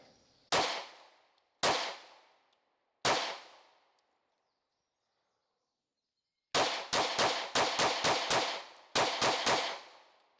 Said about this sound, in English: first shots through this thing.